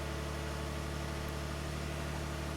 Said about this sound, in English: And as you can hear there, the truck's on.